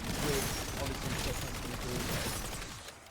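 Dense, continuous gunfire in the Black Ops 7 Zombies mode, a steady roar of rapid shots cutting down zombies, loud and unbroken for several seconds before easing slightly.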